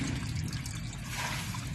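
Water dripping and trickling steadily at a close, soft level, a continuous wet splatter with no talking.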